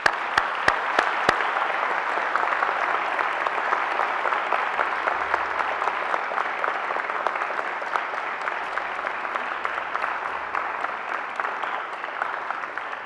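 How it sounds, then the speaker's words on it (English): Graduates at a university graduation ceremony turn to applaud their families and friends, producing sustained, loud crowd clapping that fills the hall for the whole stretch, steady and dense with a few sharp individual claps at the start. "And now I invite you to give them a mighty round of applause."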